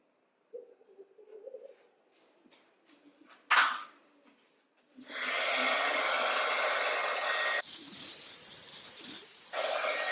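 A heat gun blows a loud, steady rush of hot air while shrinking a heat shrink sleeve over wiring during a Jeep Wrangler light install, preceded by a few close clicks and handling noises.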